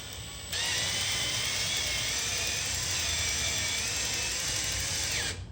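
A power drill runs for a single steady whine of about five seconds while driving a screw into a metal door on an Arctic Tern Wildlands camper trailer, loud, close and with no voices.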